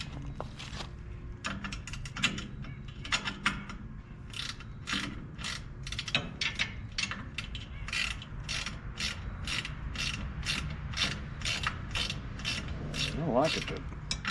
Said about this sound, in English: See if that ratchet wrench will catch on there.